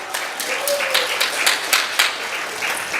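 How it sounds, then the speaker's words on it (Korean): A church congregation bursts into a brief round of dense, close applause lasting a few seconds, many hands clapping together with no voices on top. "박수 부탁드립니다"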